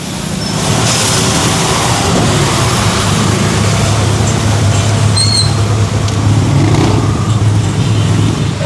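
Jeep being towed along a city road, heard as continuous loud road and engine noise with passing traffic and faint squeaks, close and steady throughout, no talk.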